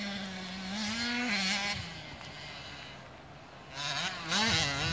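Motocross motorcycles racing on a track in poor weather, their engines rising and falling in pitch as they rev and shift, moderately distant and carrying steadily, with a second bike surging in near the end.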